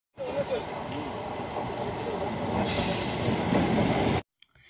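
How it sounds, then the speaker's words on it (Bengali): A train rolls into a busy railway station, a steady rumble of wagons and wheels with faint squeals, loud and continuous for about four seconds before cutting off, while people talk faintly in the background. "আমাদের ট্রেন ইতিমধ্যে ঢুকতে শুরু করে দিয়েছে"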